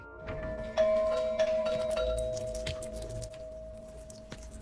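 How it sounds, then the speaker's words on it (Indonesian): A doorbell rings in a scene from Squid Game: The Challenge, with several bright chimes struck in quick succession and ringing on between presses, fairly quiet and without talk. "Lalu tiba-tiba saja terdengar suara bel yang terus-terusan berbunyi."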